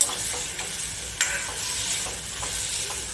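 Chopped, washed valor (flat) beans go into a hot pan for a potato and bean dish. A loud initial clatter gives way to steady sizzling, punctuated by light, irregular stirring knocks.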